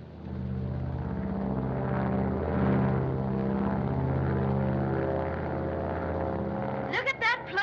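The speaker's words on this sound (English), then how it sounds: "Look at that plane climb." The engine of a radio-controlled propeller airplane drones steadily and evenly as it climbs in an old film scene, holding a constant pitch throughout before a brief voice cuts in at the very end.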